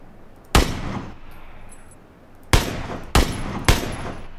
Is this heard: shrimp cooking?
no